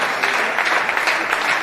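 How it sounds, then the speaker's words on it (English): Church congregation clapping during a testimony service, a brief burst of dense, lively applause from many hands, loud and close. "Clap for Master Jesus."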